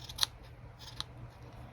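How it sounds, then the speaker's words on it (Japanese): Two crisp snips of scissors trimming the uneven ends of a crochet yarn pompom, a quick pair of cuts followed by a third lighter snip about a second later, close and quiet with no talking. "はみ出たところを切ってもいいし"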